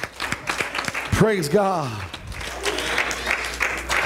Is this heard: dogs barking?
no